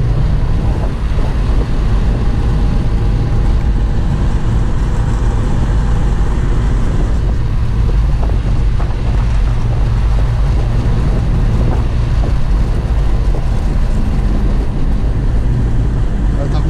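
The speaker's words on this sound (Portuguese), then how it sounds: "A hora que tira o pé, ele dá essa pipocada aí." A 1996 VW Quantum GLSi with multipoint injection and a 4-into-1 exhaust, recorded from inside while driving, gives a loud, steady engine drone with heavy wind rush and scattered faint crackles and pops.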